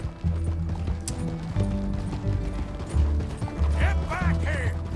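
Horse hooves clip-clopping in the Red Dead Redemption 2 video game, a rhythmic stepping mixed with mechanical rattles and a brief whinny near the end.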